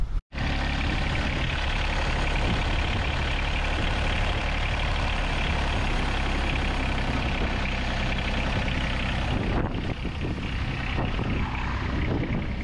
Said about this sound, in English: we're going to start the tractor up so we can look at the tack and see what our idle engine speed is